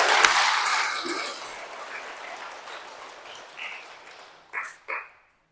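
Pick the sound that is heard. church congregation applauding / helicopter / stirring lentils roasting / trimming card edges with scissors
church congregation applauding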